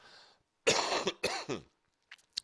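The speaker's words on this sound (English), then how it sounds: "Followed by the wonderful cough." A short burst of harsh coughing after smoking a cigarette, two or three hacking coughs close by, followed by quiet breaths.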